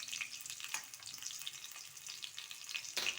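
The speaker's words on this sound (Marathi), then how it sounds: "ब्राऊन होईपर्यंत परतत राहूया।" Green chillies sautéing in a pan as palak bhaji is cooked, a steady bright sizzle with a few soft stirring knocks, close and fairly quiet, no talking.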